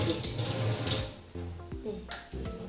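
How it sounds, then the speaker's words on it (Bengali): Water runs steadily into an Aquaguard water purifier in a home kitchen, a continuous close splashing flow broken by a few brief knocks and shifts in the stream. "অ্যাকোয়াগাটে জলটা চালিয়ে দিলাম"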